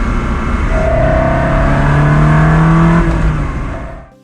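A Ferrari 360 Spyder engine revs with a rising, smooth high-pitched wail that swells loudly and then fades as it drops off, heard up close with no talking.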